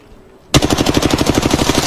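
Automatic gunfire in the video game Apex Legends: after a brief quiet moment a loud, rapid burst of evenly spaced shots rattles on without pause.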